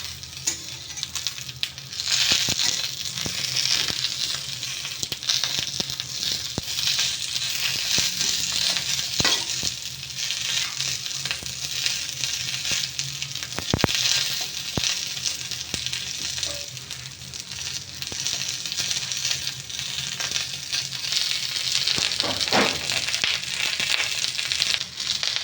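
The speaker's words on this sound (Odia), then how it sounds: "ସବୁ ଏକାଥରେ ଦଳିଦେବା ଭାଜିକିନା ତେଲରେ।" Ingredients frying and being crushed together in hot oil for pakhala, a steady loud sizzle with crackling and scraping stir-and-mash sounds running throughout.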